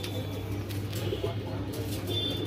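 Dhalpit pigeons at a Nabadwip pigeon farm coo quietly in a continuous low drone, with faint scattered chirps and a hint of wing movement in the background.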